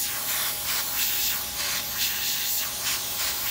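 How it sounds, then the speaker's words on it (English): An airbrush being rinsed out while painting T-shirts, a continuous airy spray hiss with gentle pulsing swells, moderately loud and alone. "I'm gonna rinse my brush out again."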